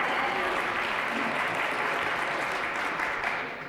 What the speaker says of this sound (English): Bravo. Applause.